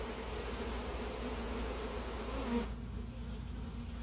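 Honeybees hum steadily as a beekeeper smokes them toward a box, a continuous close buzzing drone that thins out near the end, with no talking.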